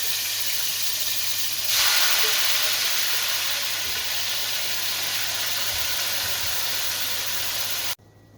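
Saltfish and okra seasoning sizzling in hot oil, a loud steady broadband hiss that swells sharply after a moment and then holds before cutting off abruptly near the end, close and without talk.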